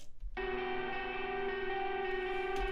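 A sustained, droning electric guitar part processed through an Esky Virtual Mix Rack with reverb and panning enters after a brief quiet moment and rings steadily with a thick, effected tone.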